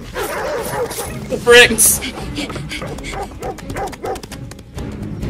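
A cartoon dog from a Total Drama episode gives a few yips and whimpering barks amid a busy soundtrack with speech, a sharp high squeal and rapid scrambling sounds, all fairly loud.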